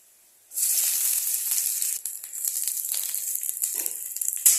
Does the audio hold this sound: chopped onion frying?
yes